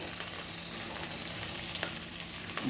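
Two tomatoes and two mild green chillies sauté in a pan as the base for a fish dish, giving a soft, continuous sizzle at moderate volume with no talking.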